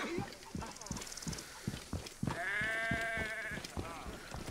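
Goats bleat in the video game Assassin's Creed Origins, a loud wavering bleat rising mid-way over rapid hoof clip-clops, with someone talking excitedly around it.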